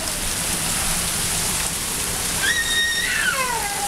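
Heavy rain pours down steadily as a dense, continuous hiss, with a bird chirping faintly in the background near the end.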